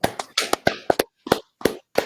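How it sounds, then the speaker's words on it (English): People clapping hands in a podcast setting: a sparse, uneven series of about ten sharp, close claps spread across two seconds, with no talking. "All right, clap it up."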